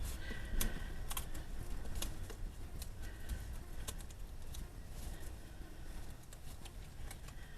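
Scraps of paper are folded up for a woven paper-squares craft, giving a steady run of soft, close crinkling and rustling with small crisp taps, and no talking.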